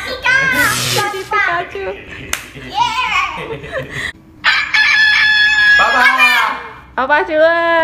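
A rooster crows loudly with a long, drawn-out call, mixed with children's voices chattering and calling out nearby.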